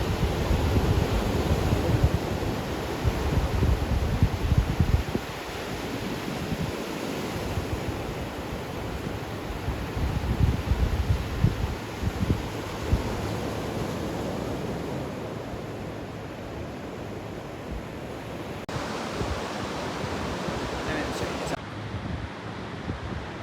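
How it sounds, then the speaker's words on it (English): Ocean surf washing onto a beach at an RV park resort in Newport on the central Oregon coast, a continuous broad rushing wash mixed with gusty wind buffeting the microphone, steady throughout. "Out for a walk on the beach at our RV park resort."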